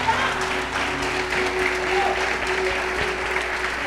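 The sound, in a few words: audience applause in church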